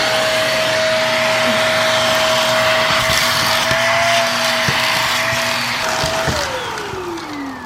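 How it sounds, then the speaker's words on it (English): A loud vacuum cleaner runs steadily inside a car, a sustained close whine and roar as small rocks and debris are sucked from the Acura RSX interior, with faint rattles, tapering slightly at the end. "I'm just gonna quickly vacuum the car of all those little rocks and like random stuff"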